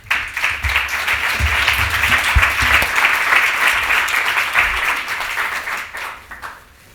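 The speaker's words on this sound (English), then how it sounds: "let's give them a round of applause" Audience at an education reform event applauding speakers as they come forward, sustained dense clapping that swells and then tapers off near the end.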